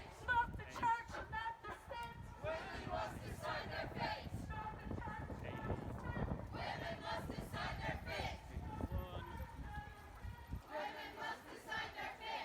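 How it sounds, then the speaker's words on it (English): A large crowd gathers at the Belfast Rally for Choice, a 2016 outdoor demonstration, with a dense, continuous murmur of many voices and some shouting, close by and steady throughout. "already there's a great crowd here"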